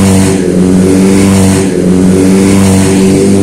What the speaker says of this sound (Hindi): इस सुपर बाइक की जो आवाज़ होती है ना